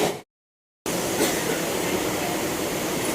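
Suburban train running from Dhakuria station toward Ballygunge, a steady broadband rumble and rush heard from inside, briefly cut to silence near the start before resuming evenly.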